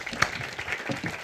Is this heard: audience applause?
yes